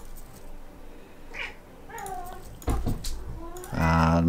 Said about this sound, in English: And my cats are going mental.